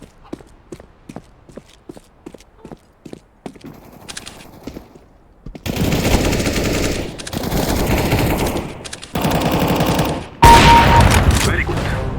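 Rapid automatic gunfire from Counter-Strike: Global Offensive, team deathmatch on the Mirage map, opening with quieter scattered shots and then loud, dense bursts of fire.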